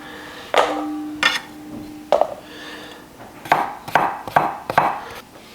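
A knife chops cucumber into thick pieces for a Korean-style salad, giving sharp, close cuts against a board, first spaced apart and then in a quicker run of four or five strokes.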